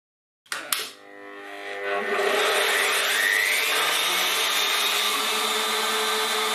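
A bandsaw cuts through M10 stainless steel threaded rod. A couple of sharp knocks are followed by a loud, steady, grinding roar with a thin high squeal from the blade, close and continuous to the end.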